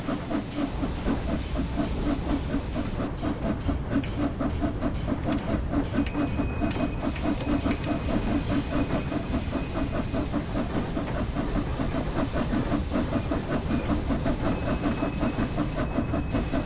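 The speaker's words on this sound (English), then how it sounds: "you may notice the air pump has now sort of going boom, boom, boom, boom" Locomotive air pump running in Train Sim World, a steady hissing, pulsing machine drone with a rhythmic chug that continues evenly throughout at moderate loudness, with no talking.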